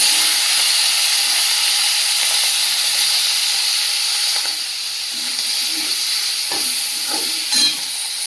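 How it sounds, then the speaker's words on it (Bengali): Prawns fry in hot oil with a steady, close hiss and sizzle, a few light clinks and stirring knocks near the end and no talking. "একই তেলের মধ্যে চিংড়ি মাছগুলো ভেজে নেব"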